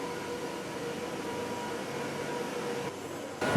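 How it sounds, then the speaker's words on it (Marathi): A Mumbai non-AC suburban local train with automatic doors, at the Kurla car shed, gives a steady, even rumble throughout, with no voices and a small bump in level at the very end. "भारतातील पहिली स्वयंचलित दरवाजाची नॉन एसी लोकल ही आता कुर्ला कारशेडमध्ये दाखल झालेली आहे"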